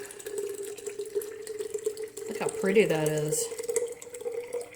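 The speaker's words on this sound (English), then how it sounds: "I'm just going to pour the water off into here." Water is poured from one container into another sitting on a kitchen scale while making brine for fermenting radishes. The brief splashing pour comes over a steady low hum, and a person talks.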